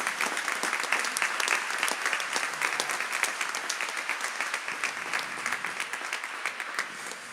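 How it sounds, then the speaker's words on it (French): Steady, dense applause from an audience honoring a technical manager on a Radio Maria team, many hands clapping evenly throughout without speech. "qui est Inga, que nous pouvons applaudir aussi"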